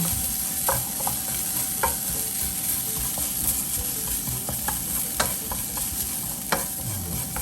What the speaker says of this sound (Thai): นำน้ำมันหมูนะฮะ ใส่ลงไปนะฮะ แล้วก็ ผัดให้หอม